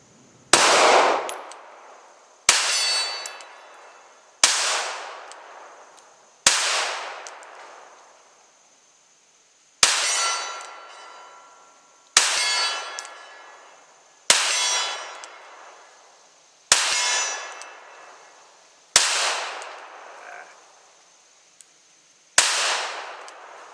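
Pistol shots from a Sig Sauer P320 X Compact fired at a steel silhouette 40 yards out, about ten sharp reports at an irregular pace of roughly two seconds, each followed by a ringing clang and a long fading tail.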